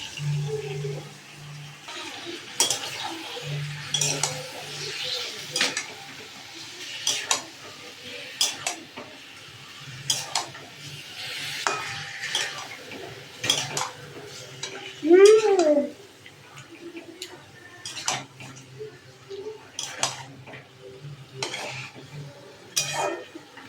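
Meat curry being stirred in a pan, with scraping utensil strokes and clinks repeating close up, a low sizzle underneath and a louder clatter partway through.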